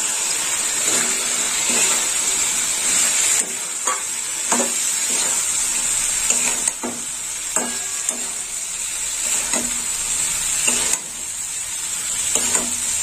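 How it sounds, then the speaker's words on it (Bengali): Fried fish pieces sizzle in a pan of masala with poppy seed paste, a steady close crackle and hiss broken by repeated scraping clinks of a spoon stirring against the pan. "এর মধ্যে ভাজা মাছগুলো দিয়ে দেবো।"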